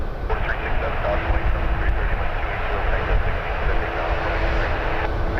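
A Porter Airlines Embraer E2 jet taking off at Toronto Pearson, its engines giving a steady, loud, broad roar throughout, with radio voices talking over it.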